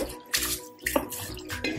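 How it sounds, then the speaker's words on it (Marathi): Water sloshes and splashes in a bowl in short bursts, with swishing and dripping between, as fragrant rice is rinsed close by. "हे तांदूळ 2 ते 3 पाण्याने स्वच्छ धुवून घेतले आहे"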